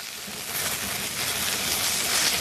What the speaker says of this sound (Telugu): టమాటాలు వేసిన తర్వాత కంటిన్యూస్‌గా కలుపుతూ ఎక్కడ ఓవర్ ఫ్రై అయిపోకుండా ఒక 1-2 మినిట్స్ ఫ్రై చేసుకుంటే సరిపోతుంది.